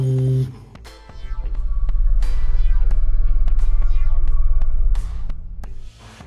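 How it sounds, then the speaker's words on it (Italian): A steady low throbbing resonance, pulsing rapidly like a droning hum, builds and holds inside a 2007 Fiat Grande Punto, with scattered sharp clicks over it before it fades. "un rumore fastidioso di risonanza"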